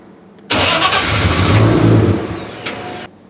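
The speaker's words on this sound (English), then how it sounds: "The mufflers at the back just make it sound way too quiet." Nissan R32 GT-R roll racing car fires up with rear mufflers fitted, catching sharply then revving loudly for about two seconds before settling to a lower idle, recorded close by.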